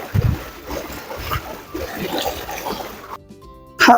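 A boy plays and splashes in the pool beneath the Bheemuni Padam waterfall, with choppy bursts of sloshing and splattering water, close and uneven, ending in a sharp loud splash after a brief lull.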